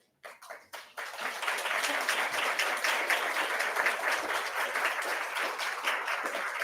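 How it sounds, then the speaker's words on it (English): An audience at an annual meeting applauds trustees, current, past and nominated, as they stand. A few scattered claps open it, then steady, full clapping holds for several seconds. "thank you for giving them a round of applause"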